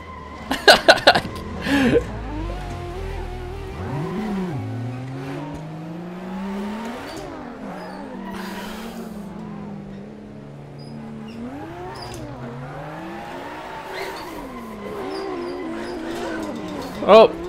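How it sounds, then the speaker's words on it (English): Engine note of a car drifting through 360 spins on a video game drift server, revving and swooping in pitch continuously with talk over it. "We're doing 360 drifts and..."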